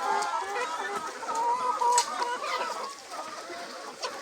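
Hens cluck and chatter in a busy flock, with overlapping bird calls forming a steady farmyard din throughout.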